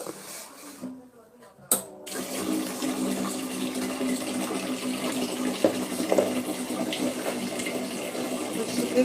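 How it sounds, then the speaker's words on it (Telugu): Water runs and splashes steadily into a container after a brief pause, a continuous gurgling pour that stays fairly loud throughout. "ఇప్పుడు దీంట్లో వాటర్ పోసు"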